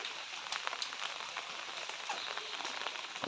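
Rain falling by a pond, with fish coming up out of the water: a steady, fairly quiet patter of drops on the surface, with scattered sharper drips throughout and no voices.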